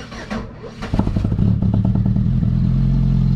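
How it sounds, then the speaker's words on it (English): A budget car idles and then revs through a cheap aftermarket muffler bought online, giving a loud, close, rumbling exhaust note that steadies into a continuous low drone after a brief clatter at the start. "So this was the, I think, the cheapest type muffler"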